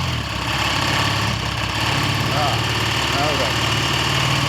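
A Triumph Bonneville T140 motorcycle engine runs on only one cylinder, a loud, steady, close drone throughout, with someone briefly speaking over it.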